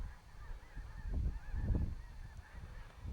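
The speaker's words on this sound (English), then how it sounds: "Look at all those chickens." A flock of birds outdoors calls repeatedly in overlapping honking bursts, loud and fairly close, with the calls swelling and fading over steady background noise.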